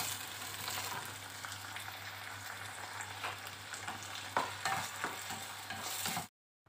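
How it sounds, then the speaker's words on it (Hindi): Whole spices and Kashmiri red chillies roast in a pan with a faint, steady dry sizzle and hum, punctuated near the end by several light scraping stirs before it stops. "थोड़ा सा इन सबको अच्छे से भूनेंगे"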